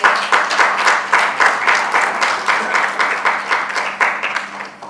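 Enthusiastic audience clapping at a Mother's Day celebration for a milk bank, close and fairly loud, with a rhythmic pulse as many hands beat roughly in unison.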